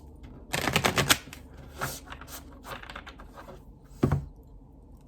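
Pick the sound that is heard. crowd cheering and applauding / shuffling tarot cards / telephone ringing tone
shuffling tarot cards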